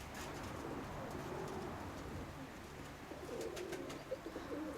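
A male pigeon cooing near a nesting female, low soft repeated coos in a rhythmic series, fairly close but quiet, with a few faint chirps above it.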